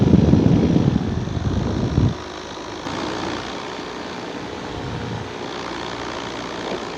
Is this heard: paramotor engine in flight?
yes